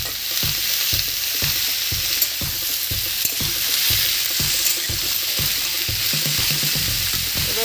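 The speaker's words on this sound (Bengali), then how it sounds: "এবার আমি শশাটা একটু ওপর নিচ করে দেবো।" Cucumber curry being stirred in a frying pan, with a loud continuous sizzle and a regular rhythm of spoon scrapes and turns, about two per second, close by.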